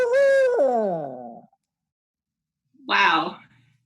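A human voice imitates a barred owl's hooting: a long, loud wavering hoot that drops in pitch, a pause, then a shorter rough hoot.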